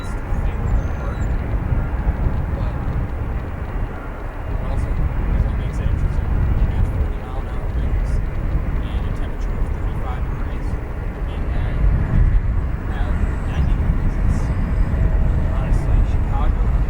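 Aircraft at Chicago O'Hare International Airport, a loud sustained engine roar swelling and easing across the whole span, with people talking over it.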